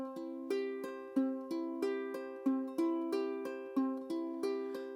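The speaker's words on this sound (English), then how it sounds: "It would be a form of Travis picking" Travis-style fingerpicking in a baritone register, plucking a steady, even pattern of repeating notes, with a clear alternating bass under the higher strings, played alone and close with no voices.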